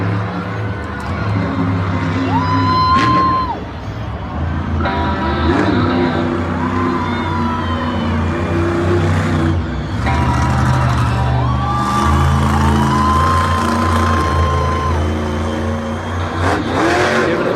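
Monster truck in a Monster Jam stadium racing run, a loud roaring engine revving and surging throughout with crowd noise beneath and a voice commentating over it.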